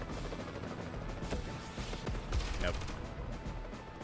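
Cartoonish gunfire from tanks attacking in the turn-based strategy game Advance Wars, a burst of rapid shots over continuous game music, with a sharper hit near the middle.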